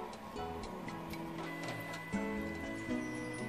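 A toner printer feeds heavy paper while printing a page. The mechanism gives a faint, steady whir with light rhythmic ticks and clicks and a slightly louder clunk partway through, and no one speaks.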